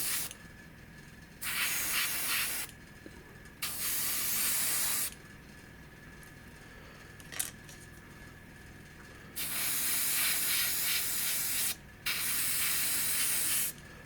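An airbrush sprays cockpit green paint onto the interior parts of an Arma Hobby P-51B Mustang model kit in several short hissing bursts, each a few seconds long, separated by quiet pauses.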